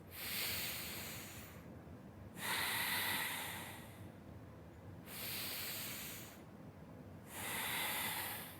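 Slow, deep breaths during an exercise routine, each one a long, airy rush lasting a second or two with quiet pauses between. Four breaths are heard, close and fairly loud, with no talking.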